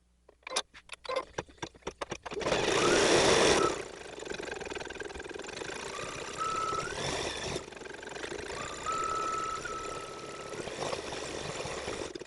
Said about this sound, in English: And now we're going to sew.